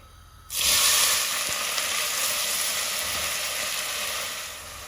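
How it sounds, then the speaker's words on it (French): Chopped onion dropped into hot olive oil in a pot bursts into a loud, steady sizzle after a brief quiet start, the frying hiss holding strong and then easing slightly. "Une fois que l'huile est bien chaude, je vais y déposer l'oignon haché."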